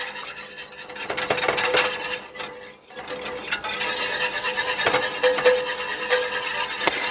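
A utensil scrapes and rubs steadily in a pan while flour and butter are stirred into a sauce for a Spam and Velveeta macaroni bake, a continuous rasping with brief pauses and no talking.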